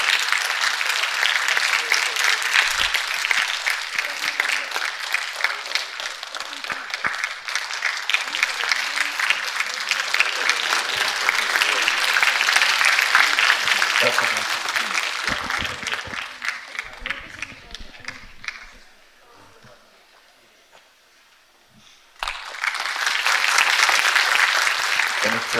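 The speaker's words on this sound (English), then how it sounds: "A huge round of applause." Sustained audience applause at a university talk event during the presentation of a Tagin bag and an Apatani muffler, a dense roar of clapping that fades to near quiet, then swells loudly again at the end.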